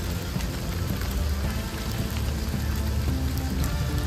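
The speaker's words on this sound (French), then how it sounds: "quand il fait 37 degrés, une petite pluie comme ça" Light summer rain in hot 37-degree weather in Bologna, falling as a steady, dense patter that holds evenly throughout without pause, with no voices over it.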